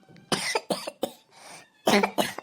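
A person coughs several times in short, harsh, close bursts, with a couple of pauses and a final pair of coughs.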